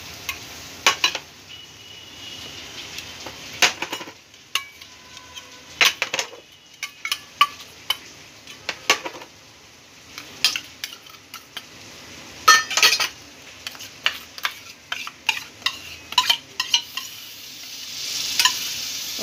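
Spoon scraping and stirring a sweet modak mixture in a kadhai on a low flame, with repeated close metallic clinks and scrapes in an irregular rhythm and no talk.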